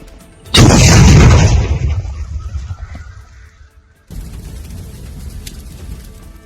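A loud explosion from Border Security Force fire on Pakistani army posts booms suddenly and rumbles away over a few seconds. A lower, steady rumble of distant field noise follows.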